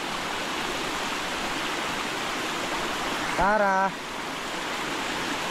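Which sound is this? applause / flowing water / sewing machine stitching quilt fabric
flowing water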